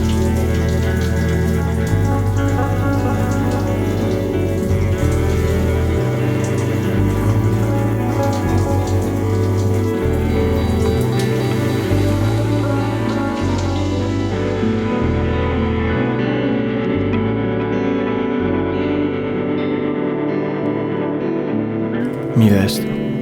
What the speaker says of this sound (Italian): Doccia.